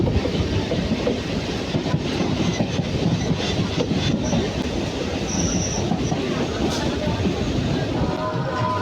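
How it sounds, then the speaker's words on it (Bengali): A passenger train running steadily after leaving a station in West Bengal, heard from on board as a loud continuous rumble of wheels on rails with rattling carriages and a faint squeal, and voices murmuring in the background. "ট্রেনে ওঠার পরে ট্রেনটা ছেড়ে দিল"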